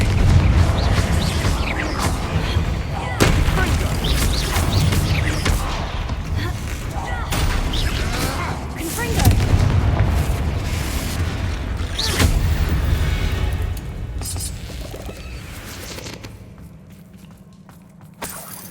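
Confringo fire spells in Hogwarts Legacy burst repeatedly during combat, a series of loud booming blasts and impacts spread over busy game noise, fading toward a quieter end.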